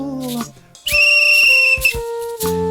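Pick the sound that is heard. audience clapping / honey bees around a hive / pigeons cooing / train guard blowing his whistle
train guard blowing his whistle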